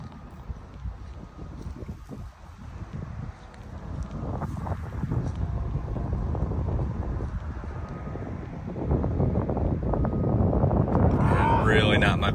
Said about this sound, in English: I was a little concerned about that headwind coming over the top of the basket